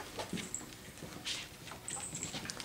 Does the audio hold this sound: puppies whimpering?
yes